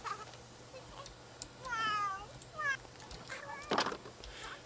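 Cat meowing in the video game The Sims 3, several short rising meows at a moderate distance over a steady low game hum, with someone speaking around them.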